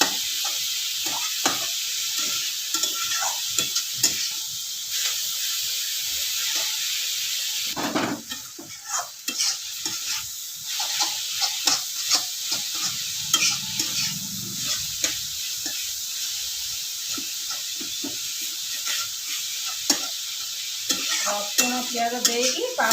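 Spinach greens frying in a pan with garlic and onion, a steady hiss and sizzle with frequent stirring scrapes and clinks throughout, close and fairly loud, with no talking.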